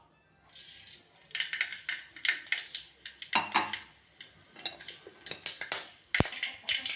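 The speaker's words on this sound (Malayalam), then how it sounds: "കടുകൊന്ന് നന്നായിട്ട് പൊട്ടി വരട്ടെ." Mustard seeds dropped into hot coconut oil in a pan while a cauliflower roast is cooked, giving close, sharp crackles and clinks in irregular bursts, with a louder snap near the end and no talking.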